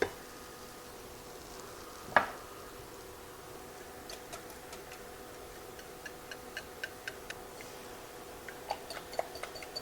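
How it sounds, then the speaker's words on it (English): Butter sizzles softly in a pan before eggs go in, a faint steady crackle with scattered light ticks and pops and one louder clink near the start, heard close with no talking. "Now you want to bring that butter to a sizzle"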